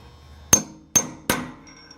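Three sharp metallic hammer strikes dimpling aluminum with an aluminum rivet during construction of a wooden Flitzer biplane windshield, evenly spaced and close, each ringing briefly before fading.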